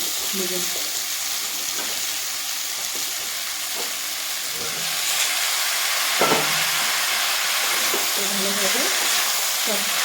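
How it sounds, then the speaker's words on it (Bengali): Onion, green chillies and ridge gourd fry in a pan, a continuous close sizzle and hiss with occasional stirring scrapes, while someone talks over the cooking. "এখন দিয়ে দেবো আমি পেঁড়া চারটে কাঁচা লঙ্কা আর দিয়ে দেবো ঝিঙ্গা"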